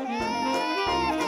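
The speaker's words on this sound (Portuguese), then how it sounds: "Eu tô sentindo barulho de neném." A baby wails loudly and continuously nearby, its cry rising and falling through two long breaths, with nothing else heard.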